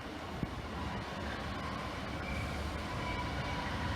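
Class 150 diesel multiple unit pulling away from Liverpool South Parkway station, a steady broad rumble of wheels and engine held at constant loudness throughout, with one brief sharp click near the start.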